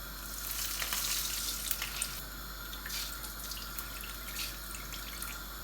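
Whole cumin seeds fry in a pan with a soft, steady sizzle and scattered light crackles, quiet and close, with no voices.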